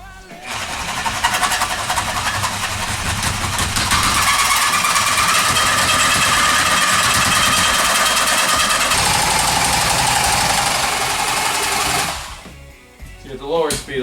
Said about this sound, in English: so we're going to make a cut here, same on the other side, trying to keep them in the same place. We're going to use the Sawzall we saw earlier.